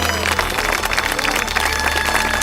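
A congregation applauds the Lord in a Portuguese-speaking worship gathering, a dense, steady wash of clapping mixed with some voices, fairly loud and continuous throughout.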